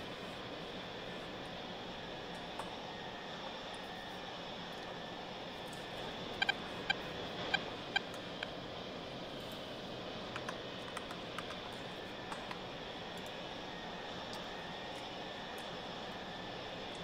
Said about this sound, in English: I think it's a 60s aircraft.